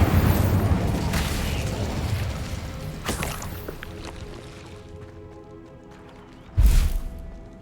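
Incendio fire spell in Hogwarts Legacy, a loud whooshing roar of flame that slowly dies away, followed by a sudden second burst near the end.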